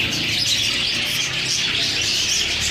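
Small caged birds at a bird market in Rawalpindi chirp and twitter in a dense, continuous chorus, many voices overlapping close by with no pauses.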